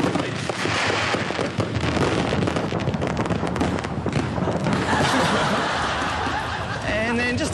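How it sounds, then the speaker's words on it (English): APEC official fireworks over Sydney Harbour, a dense continuous crackle and rumble of bursts filling the whole stretch, with wind buffeting the microphone and people chuckling and talking nearby. "there's the official APEC fireworks over Sydney Harbour"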